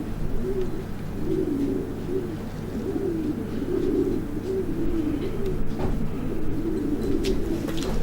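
A champion racing pigeon coos in repeated low, rolling phrases close by, set against a steady background hum with faint chirps from other birds, and nobody speaks.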